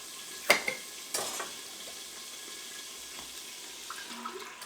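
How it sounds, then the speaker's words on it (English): Broth poured into a hot Instant Pot after searing meat, a brief splash and sizzle that settles into a low steady hiss and faint bubbling. "next we need to add our broth"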